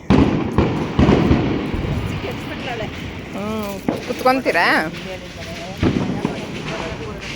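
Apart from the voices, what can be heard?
firecrackers bursting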